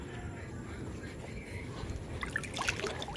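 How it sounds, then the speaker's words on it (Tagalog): Water runs from a tap, a faint steady trickle and splash with small bright droplet sounds growing busier toward the end. "tubig sa atong gripo"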